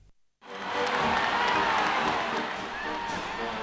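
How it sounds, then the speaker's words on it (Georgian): A packed stadium crowd at the Atlanta Olympics opening ceremony bursts into a loud, sustained ovation of massed cheering and clapping that swells after a brief quiet start and holds steady throughout. "Თუმცა ოლიმპიადის დებიუტანტი ქვეყნების, ყოფილი საბჭოური რესპუბლიკებისთვისაც არ დაუშურებიათ ოვაციები"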